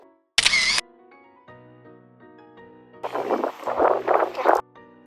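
A short, bright digital camera shutter click from a phone screenshot stands out sharply against soft background music, followed later by a longer burst of rustling noise.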